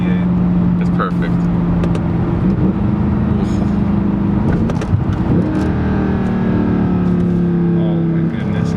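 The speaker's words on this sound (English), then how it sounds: "Why would anyone change that exhaust? It sounds so good." A 2011 Mercedes C63 AMG with a naturally aspirated V8 drones steadily on the move, its deep exhaust note holding close and loud and swelling slightly as the car accelerates, heard from inside the cabin.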